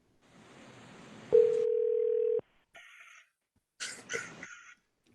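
A telephone dial tone sounds as a call is placed, a steady tone lasting about a second after faint rustling, followed by short quiet clicks and noises from handling the phone.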